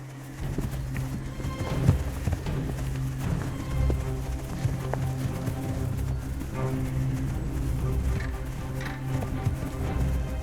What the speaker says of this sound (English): Suddenly, the whole herd is on the move. Bison can run as fast as horses.